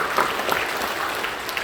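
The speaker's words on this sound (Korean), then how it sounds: "우리 박수로 격려해 주시죠." A church congregation claps in encouragement during a worship service, a brief, dense patter of many hands at moderate loudness, continuing evenly without voices.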